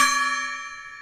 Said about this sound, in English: We can do the gong.